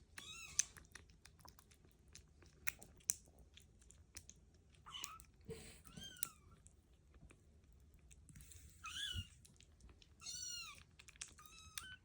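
Kittens eat food with faint wet chewing and smacking, broken by several short, high meows and small clicks scattered across a quiet background.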